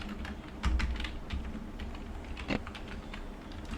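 Computer keys are tapped while entering words into an Excel attendance register, giving quiet, irregular clicks with a few heavier presses, close by and without speech.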